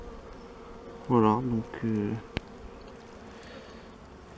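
Honeybees feeding on stored provisions at an opened hive, a soft steady hum throughout, with someone speaking briefly over it and a single sharp click.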